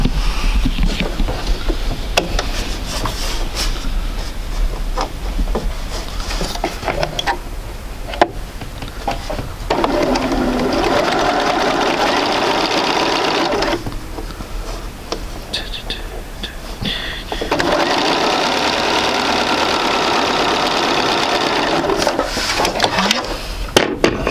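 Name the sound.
sewing machine sewing a quarter-inch seam in fabric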